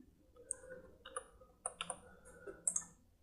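Computer mouse clicks while filtering cells in an Excel spreadsheet, a few light, sharp clicks spread irregularly over a few seconds, quiet and close with no talking.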